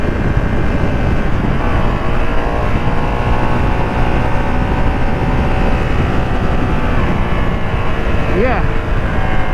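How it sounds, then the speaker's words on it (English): A loud, continuous Ducati Streetfighter V2 motorcycle engine drone with a rough exhaust rumble runs throughout, close and steady, with a brief rising whine near the end. "the exhaust sounds good too"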